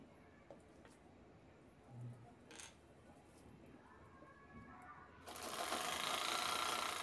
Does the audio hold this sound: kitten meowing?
no